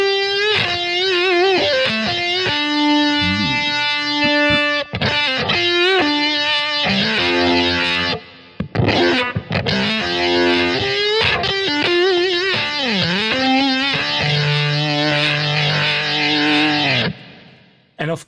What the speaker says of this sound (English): I always have a pure booster somewhere set, just when I wish to have some more distortion or more